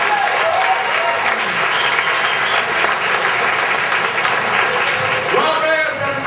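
Sustained audience applause for a comedian at a comedy show, a dense, even wash of clapping that carries steadily for several seconds, with a voice faintly mixed in.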